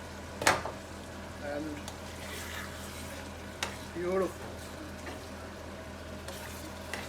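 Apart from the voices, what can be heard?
sorpotel simmering in a pot on slow heat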